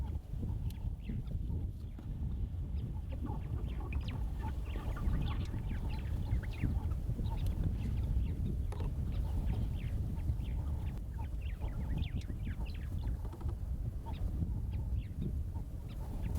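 A duck at the 14th borehole waterhole in the Kgalagadi gives repeated honking calls in irregular bursts over a steady low rumble of wind or an idling vehicle.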